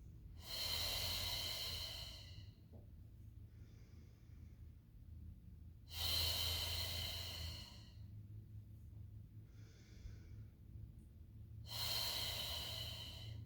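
Slow, deep breaths during a Pilates mat exercise, three long breathy exhales spaced evenly with quieter inhales between, close and clear with no talking.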